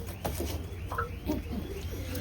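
Pigeons in a loft give a few soft coos and faint rustles over a steady low hum, with no voices present.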